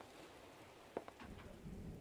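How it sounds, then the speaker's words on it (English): Steady rain falls in a survival video game, a constant hiss with a few sharper drops or thuds near the middle and a louder low rumble building toward the end. "hopefully this rain will pass."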